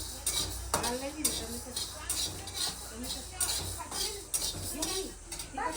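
Whole spices dry-roasting in a pan at home for chicken ghee roast, with a spoon stirring and scraping in repeated clinks and scrapes over a faint sizzle, close and fairly soft, with a voice talking intermittently.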